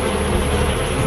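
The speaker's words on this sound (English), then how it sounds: "the bees crowd belly to belly against the invading beast" A dense swarm of honeybees crowds around an invading hornet, making a loud continuous buzzing drone with no voices.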